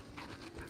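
A dog panting softly nearby, quick faint breaths repeating over under a second.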